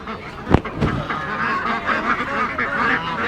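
Desi and Belgian ducks and geese honk and quack nearby in a busy poultry market in Fatullah, Bangladesh, with a loud honk near the start and overlapping calls continuing throughout.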